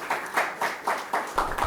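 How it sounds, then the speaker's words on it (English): An audience claps in welcome for a speaker at a UAE leaders' forum, several short uneven bursts of clapping that sound like a small group nearby, with no talk over them. "Let's welcome NC with a round of applause."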